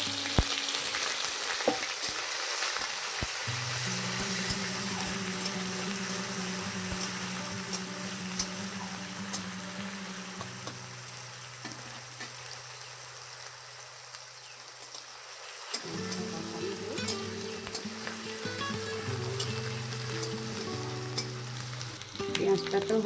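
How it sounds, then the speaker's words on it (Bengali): Onions fry in hot oil with a steady, bright sizzle, loud and close and unbroken, while a low tonal hum from the kitchen rises and falls beneath it. No one talks. "এবারে পেঁয়াজ ভাজা দেবো।"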